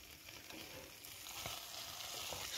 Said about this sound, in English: Sizzling on me nicely.